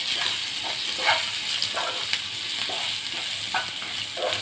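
Crushed garlic and tempering sauté in a hot pan for onion-garlic chutney, a steady close sizzle with soft stirring scrapes recurring through it, no talk.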